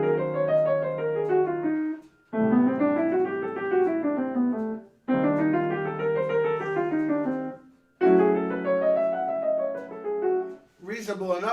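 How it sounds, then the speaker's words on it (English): Jazz piano running plain scale lines up and down over changing chords, played in four phrases separated by short pauses, clear and close with no talking. "if I just play the scales, it sounds like this."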